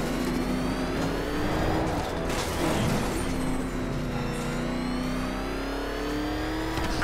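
Batmobile in Batman Arkham Knight drives with a continuous, deep engine drone that swells and eases slightly, plus rumble and scraping noise mixed in throughout.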